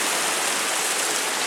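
Steady rain hits the ground while water flows in, a dense, even hiss that stays loud and unbroken throughout.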